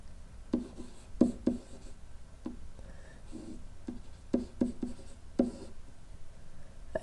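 Marker or chalk writing on a board during a math lesson on the quadratic formula, a series of short scratchy strokes in irregular bursts, close and fairly quiet, with no talking.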